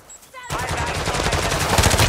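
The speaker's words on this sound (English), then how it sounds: "I'm taking fire." Rapid automatic gunfire erupts in the battle royale game Warzone, a loud sustained burst of shots that begins abruptly after a brief quiet moment and continues without pause.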